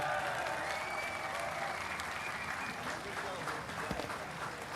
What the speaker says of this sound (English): a huge round of applause for these guys